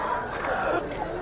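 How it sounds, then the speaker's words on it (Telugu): Nellore chickens at the Gokavaram market give a brief burst of crowing and clucking over the surrounding market noise. "మన గోకర సంతలో నెల్లూరు కోళ్ళు."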